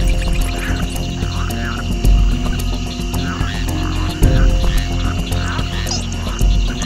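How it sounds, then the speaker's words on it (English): Frogs call steadily in a wild night setting, a dense chorus of repeated croaks and chirps layered over constant low rumble and insect-like buzzing, moderately loud and continuous throughout. "frogs try to stay hidden or reduce their calls to a brief"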